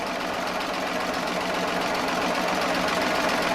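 A Baby Lock Triumph serger stitches bias binding on a holiday banner, its motor running in a steady, even whir close by with no pauses, alone without talk.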